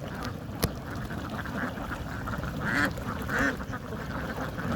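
White ducks feeding on small snails give a few quacks close by, two clearer calls near the end over a low outdoor background, with one sharp click early on.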